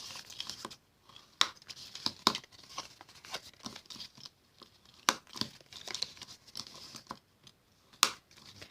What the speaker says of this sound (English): Then I'm going to fold on all of the score lines. Let's get out our bone folder and make sure they're nice and crisp.